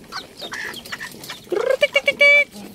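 Chickens, with pigeons alongside, cluck in a coop: soft scattered bird calls and rustling give way to a run of close, sharp clucks and a drawn-out squawk near the end.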